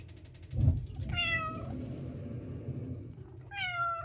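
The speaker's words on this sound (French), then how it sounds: "tant que j'aurai pas donné ses croquettes, il n'arrêtera pas de miauler" A hungry cat named Rikiki meows insistently for its kibble, two long drawn-out cries close to the listener, separated by a pause, over faint background rumble.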